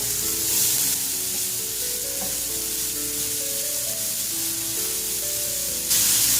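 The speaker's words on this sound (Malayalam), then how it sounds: "ഇനി ഞാൻ ബ്രൊക്കോളി പൊടിച്ചത് ചേർത്ത് കൊടുക്കുകയാണ്" Ground broccoli is stirred into softened, salted onions in a pan, giving a steady, close sizzle with soft scraping strokes and gentle melodic tones underneath.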